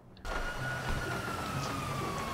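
A police car siren in the video game GTA 5 wails steadily and loudly after a brief quiet start, a continuous tone running alone across the whole stretch.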